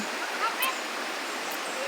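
Water flowing in the Libtong river at Cambajao, Cajidiocan, Romblon, a steady broadband rush like a small waterfall or stream, heard up close and continuous with no break.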